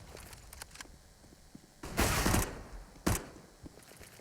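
SMG gunfire in a CS:GO pro match on the map Cache: sparse sharp shots and a couple of loud bursts around the middle, mostly alone with no talk over them.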